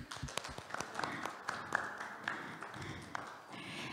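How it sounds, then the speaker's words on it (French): An audience claps after a testimony at a prayer evening. The clapping is faint and irregular and mixes with light taps and shuffling in a roomy space. "On t'applaudit."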